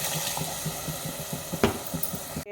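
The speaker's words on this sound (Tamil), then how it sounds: "இப்போ வந்து தண்ணி சேர்த்துக்கலாம்." Water is poured into sautéed masala for a thick salna, a soft, low-level splashing and trickling with a few small bubbling pops and no talking.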